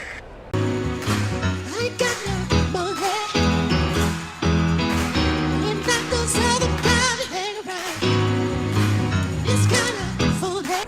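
A funky disco rework of Prince's "I Wanna Be Your Lover" plays with a steady beat, bass and layered instruments, full and loud throughout with vocals woven in.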